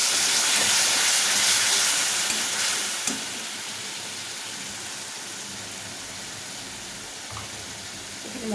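A spice paste with a little water sautés in a pan for soybean curry, giving a steady hissing sizzle that is strongest at first, then settles quieter, with an occasional faint clink of a spoon.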